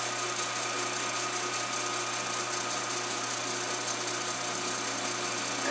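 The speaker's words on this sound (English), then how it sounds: "Here I'm taking 3, maybe 4 thousandths off of this shaft, getting perfect results." A metal lathe with a high-speed steel tool takes a light cut of a few thousandths off a shaft, giving a steady, even hum with constant machine drone and fine cutting hiss, with no talking.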